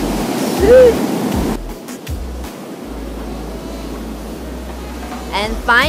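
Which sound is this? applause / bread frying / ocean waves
ocean waves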